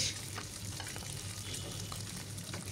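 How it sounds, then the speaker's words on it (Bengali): Eggs fry in oil in a pan until golden, a continuous close sizzle with soft crackles and occasional light stirring taps, steady throughout. "আন্ডা ভাজা প্রায় শেষ।"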